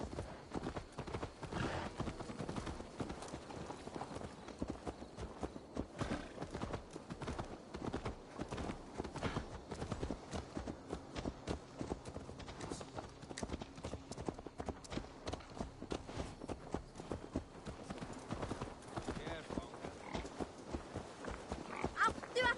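A horse's hooves clip-clop steadily in Assassin's Creed Valhalla, a continuous rapid rhythm of close hoofbeats over a low rumble, with occasional talk faintly underneath.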